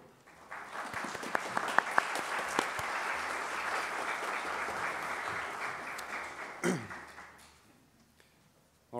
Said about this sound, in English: just for a brief round of applause